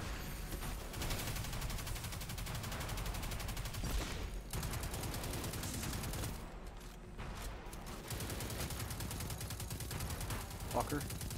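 SMG gunfire in the Destiny 2 video game rattles almost without pause in dense, rapid bursts, with brief gaps and a louder game soundscape layered beneath.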